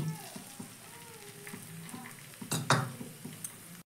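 Two cracked eggs dropped into a frying pan of a little hot white oil, sizzling softly, with a brief louder splash of spitting oil and a metallic clink from the pan partway through.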